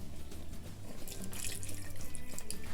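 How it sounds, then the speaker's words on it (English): Milk pouring into a Ninja Foodi pot during cooking, a steady close liquid splash and trickle continuing throughout. "I am going to add another cup of milk."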